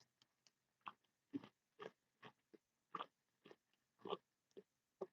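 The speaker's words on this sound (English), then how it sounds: "Is this ASMR me chewing?" Close, dry crunching and biting of food, about ten distinct chewing bursts spaced at a steady rhythm in near silence, with no talking.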